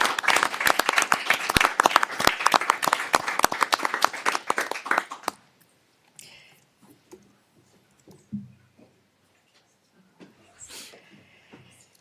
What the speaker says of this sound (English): And we'll do applause while they're on their way